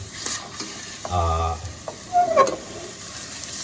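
Field rat meat sizzles and scrapes as it's stirred with seasoning in a hot pan, short clattering bursts of a utensil against metal over a steady frying hiss.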